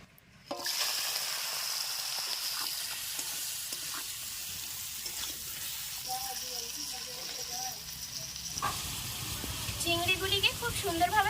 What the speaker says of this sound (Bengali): তেলের মধ্যে দিয়ে দিচ্ছি একটু লবণ সামান্য একটু হলুদ কেটে রাখা চিংড়িগুলি দিয়ে ভেজে নেবো